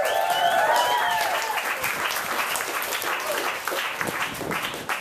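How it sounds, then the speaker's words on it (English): Comedy club crowd in Long Beach applauds a comedian taking the stage, steady clapping and whoops from the audience with a voice briefly heard over the start. "Another round of applause."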